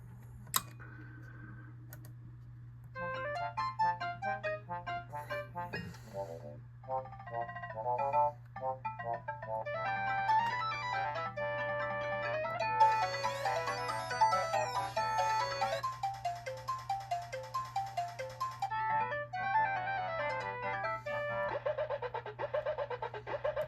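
Electronic chimes, beeps and jingles from a Williams System 11 Cyclone pinball machine under test play in bursts over a steady low hum, some passages busy and layered, others sparse, cycling through effects.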